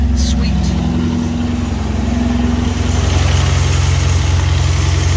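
A 1962 Chevrolet C10 pickup truck engine idling steadily with a loud, close, low rumble that runs continuously throughout without pause.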